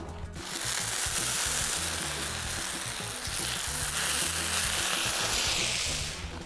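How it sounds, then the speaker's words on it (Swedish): Food frying in oil in a pan on an outdoor grill in Sweden, a loud steady sizzle that starts abruptly and crackles on continuously without talk. "det måste ju fan kunna gå och steka i den där. Då ska vi ha olja"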